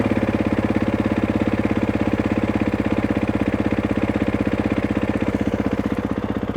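A motorcycle fitted with a Rekluse auto clutch idles in gear with the front brake held, its engine thumping in a fast, even pulse up close, steady and loud with no talking.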